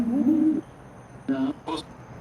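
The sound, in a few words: owls calling in an abandoned building in Hawaii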